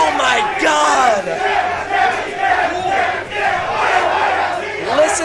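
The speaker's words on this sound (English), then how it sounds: "Listen to the crowd." Tournament crowd at a Super Smash Bros. Ultimate event in a student union roars and cheers steadily, a dense sustained wall of shouting voices with rising swells throughout.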